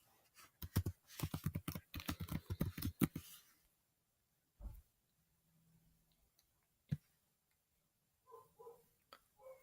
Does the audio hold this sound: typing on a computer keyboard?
yes